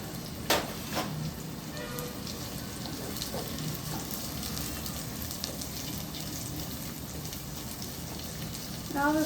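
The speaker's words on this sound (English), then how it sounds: "Now we're going to put the curry leaf inside the pan." Curry leaves sizzle and crackle steadily in hot oil in a pan for a Kerala vegetable stew, a dense close frying hiss with small pops, a sharp splatter at the start and another burst at the end.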